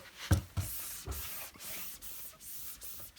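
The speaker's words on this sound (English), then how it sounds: "I'm just spraying this down with some cleaner." Cleaner sprayed onto dirty shop door windows from a trigger bottle, a few sharp hissing bursts repeated in a loose rhythm, close and fairly quiet, with no talk.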